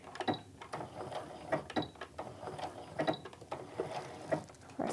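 A sewing machine stitches back and forth to reinforce a seam on a handmade clutch, giving a close mechanical whir and clatter in short, uneven bursts that start and stop repeatedly, with no talking.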